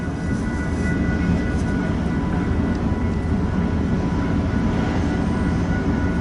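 A train rumbles through the BNSF and Union Pacific diamond crossing in Fremont, a steady, loud low-pitched drone of engines and rolling wheels with no break.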